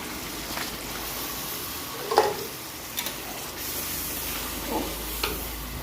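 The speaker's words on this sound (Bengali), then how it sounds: "এবার আমি ধীরে ধীরে তড়কাগুলোকে কড়াইয়ের মধ্যে দেব।" Tadka poured slowly into a kadai gives a soft, steady sizzle with a few light clinks and stirring knocks scattered through it. No one speaks.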